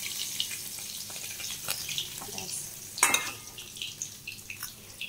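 Bhola fish fry in oil in a pan, giving a continuous soft sizzle with scattered pops and a sharper clatter of a utensil partway through, heard up close and fairly quiet, without speech.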